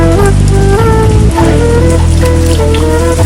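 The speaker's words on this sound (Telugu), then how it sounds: "ఏంటి వర్షం ఇలా పడుతుంది?" Rain falls steadily and loudly on a surface close by, a dense continuous patter that lasts throughout with no speech.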